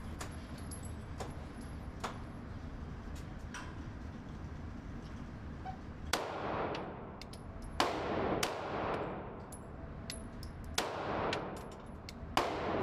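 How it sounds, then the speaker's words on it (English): A Sig P226 pistol fires at a gun range toward a target at 10 yards. Five or so sharp, ringing shots come at irregular intervals, each trailing off in echo. "we're going to shoot center mass for accuracy"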